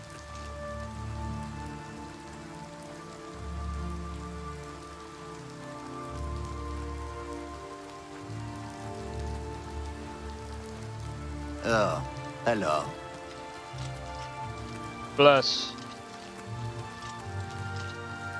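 Rain falling in the video game Oblivion Remastered, a soft steady patter running throughout, with people talking briefly over it near the end.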